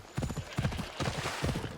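Horse galloping in Assassin's Creed Odyssey, a video game, with rapid rhythmic hoofbeats in bursts at steady volume over a game soundscape.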